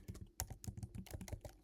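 Rapid typing on a computer keyboard, close and clear, with a fast uneven run of keystroke clicks and a few sharper presses. No voices.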